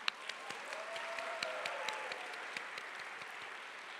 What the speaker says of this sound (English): invite you to give yourselves a round of applause